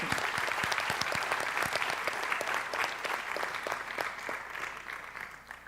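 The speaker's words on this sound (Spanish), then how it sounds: "Démosle un aplauso a un joven que está presente." Audience applause at a regional authors' award ceremony, honoring a young finalist, with steady dense clapping from a seated crowd and crisp individual claps near the front, fading slightly toward the end.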